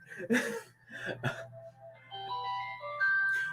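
A mobile phone ringtone plays a bright, stepping electronic melody, close and fairly loud, starting right after a few moments of voices and a cough, and continuing to the end.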